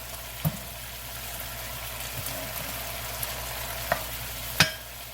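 Beef, pasta and vegetables stir-frying in a pan, a continuous close sizzle with occasional sharp pops and clicks, heard alone without talk.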